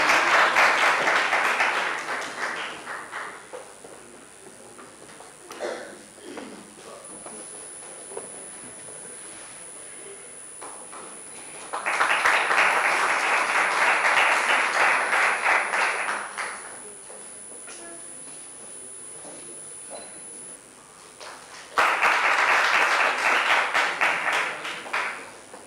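An audience at a national engineering conference applauds the paper presenters in three bursts of clapping, each lasting several seconds, with quieter gaps in between and a steady high tone running underneath.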